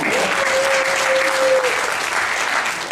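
Steady applause from a crowd fills the moment, with a brief voice tone in the middle and clapping continuing throughout.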